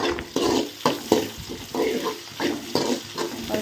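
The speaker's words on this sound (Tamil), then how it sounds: "நம்ம வெங்காயத்தை வந்து மறுபடியும் வந்து கிளறி விடுவோம்" Onions frying in a pan for a meat curry are stirred in a steady rhythm, each scraping sweep of the spoon landing about every half second over a soft, continuous sizzle close by.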